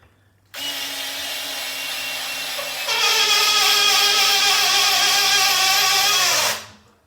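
A NoCry electric screwdriver drives a 2½ inch screw into wood with no pilot hole, a steady close motor whine from start to finish that grows louder and strained partway through, then cuts off.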